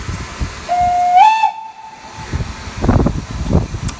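A steam locomotive on the Keighley and Worth Valley heritage railway sounds a single clear whistle that rises slightly in pitch and lasts about two seconds. Afterwards come bursts of chuffing exhaust and hiss from the engine.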